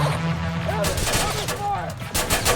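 Gunfire from the Terminator: Resistance video game comes in dense bursts with booming reports, loud and close, while voices shout over the shooting.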